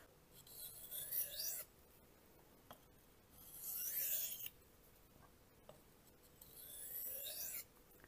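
A knife drawn lightly across a Suehiro sharpening stone, three separate gliding scrapes about three seconds apart, close and quiet, each a short hissing stroke with near silence between.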